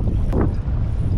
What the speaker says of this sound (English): The wind's causing havoc.